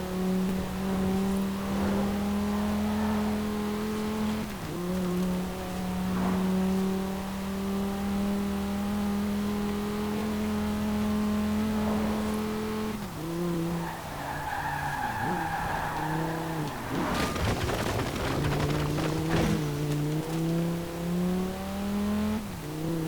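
Twin-turbo V-TECH engine of the Quadra Turbo-R in the Forza Horizon 4 racing game, droning at a steady pitch for a long stretch, then revving with rising and falling sweeps and a burst of tire noise, loud throughout.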